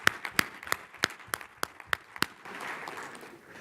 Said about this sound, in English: can we all give a big round of applause to Mr. Andy Peterson of the Chamber